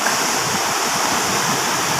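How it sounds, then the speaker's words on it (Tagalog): Floodwater from a large 2025 flood rushes past in a loud, constant roar of churning water, close by and with no pauses, and no voices over it. "Perting dakuha sa tubig. Mao na gini tinuod nga baha."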